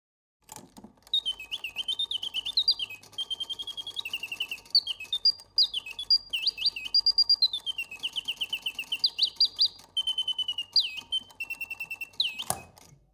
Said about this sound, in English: The intricate mechanism allows the bird to flap his wings,